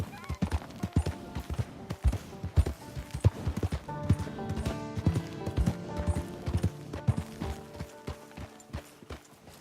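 Hooves clip-clop at a quick riding pace from a horse in Red Dead Redemption 2, loud and steady over nearly ten seconds, with faint whinnies mixed in.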